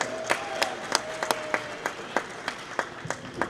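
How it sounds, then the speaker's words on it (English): A crowd applauds the officiating crew at a girls' basketball state semi-final, scattered, fairly sparse clapping with distinct individual sharp claps spread across a large indoor space, moderate in volume and with no talking over it. "Let's give a big round of applause as well for our officiating crew today."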